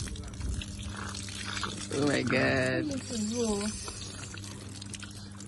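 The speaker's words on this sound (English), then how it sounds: "Feel the water in your hands." Water runs and splashes over hands at a historic well in Badagry, Nigeria, a steady pouring trickle heard close under excited voices.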